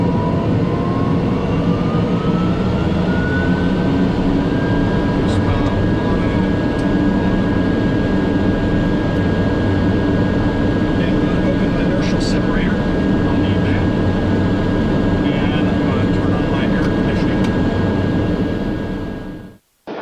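A TBM 700C2 turboprop engine runs steadily at high idle after start, a loud continuous drone with a rising then held whine, close up and filling the whole stretch before cutting off at the end.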